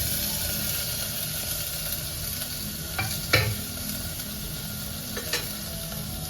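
Peas, cauliflower and carrot frying in ghee in a pan for veg biriyani, with a steady close sizzle and a few sharp clinks of the spoon against the pan around the middle and near the end.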